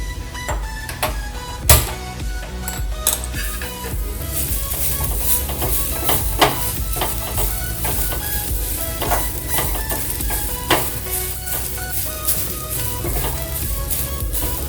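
Ingredients for akki kadubu rice dumplings dry-roasting in a pan, kept light rather than dark: a continuous dry hiss broken by frequent clicks and scrapes of a spatula against the pan, with no talking.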